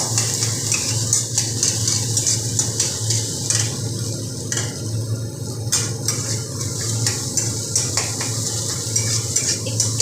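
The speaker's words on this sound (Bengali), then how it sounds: "আমি ডিমগুলোকে ভাজা করে নেব" Eggs fry in oil in a pan, making a dense steady sizzle throughout with a low cooktop hum and occasional faint stirring clicks.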